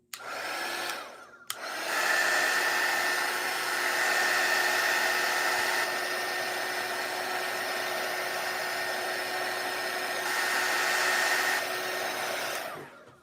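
A hair dryer runs steadily and close over artwork with a constant whirring hiss for about eleven seconds after a brief start and stop, with no talking.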